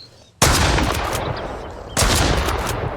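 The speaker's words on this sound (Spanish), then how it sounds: "No sé si el primer disparo le dio." Two loud gunshots from a firearm in the survival video game Mist Survival, one sharp blast near the start and a second about a second and a half later, each followed by a long ringing tail.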